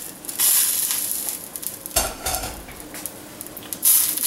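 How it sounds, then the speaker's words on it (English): Drained ground meat for chili with beans stirred in a pot, spoon scrapes and sloshing over a soft sizzle, with a few louder stirring strokes and clinks against the pot. "Stir it around."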